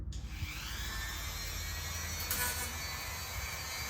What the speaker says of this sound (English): Let's just get to it and get the Dremel out.